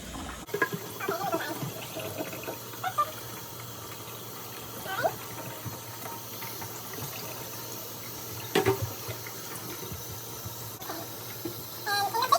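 Hot water runs steadily from a household tap, a constant close hiss with faint clinks, while someone talks over it in the foreground.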